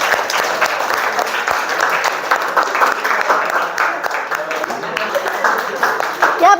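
A classroom of students clapping together, a dense sustained round of applause close by for several seconds, with a teacher's voice heard near the end.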